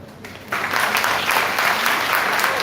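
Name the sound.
audience applause for performers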